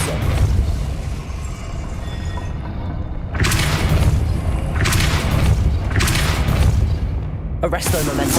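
Repeated Depulso spell effects in the Hogwarts Legacy video game land as booming, whooshing bursts, several heavy thuds spaced a second or two apart over a low rumbling background.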